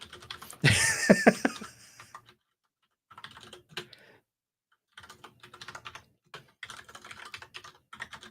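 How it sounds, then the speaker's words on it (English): Typing on a computer keyboard, close and clear, in quick bursts of key clicks separated by short silent pauses, with a louder burst of handling noise at the start. "I have to type it."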